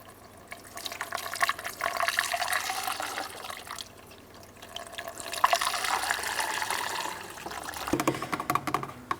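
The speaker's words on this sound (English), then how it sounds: "top off our coolant reservoir with the manufacturer's specified coolant" Coolant poured through a funnel into the reservoir of a Chrysler Town & Country 3.8L V6: a close, steady gurgling trickle of liquid that swells, eases briefly, then swells again.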